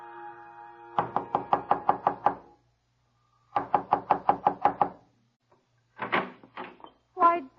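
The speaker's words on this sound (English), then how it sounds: "before he knocks at the door" A radio drama sound effect of knocking on a door: three loud, close bursts of rapid knuckle raps, roughly seven or eight knocks in each of the first two, separated by pauses, followed by a few brief voice sounds.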